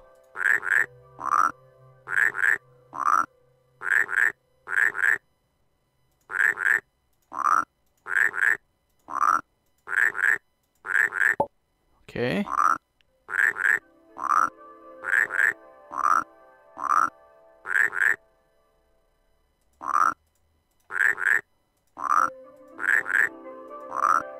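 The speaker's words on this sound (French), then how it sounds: "j'ai une grenouille d'or" Frogs croaking in the Rusty Lake Paradise game, loud rhythmic bursts of croaks in short clusters with brief pauses, repeating steadily and close up.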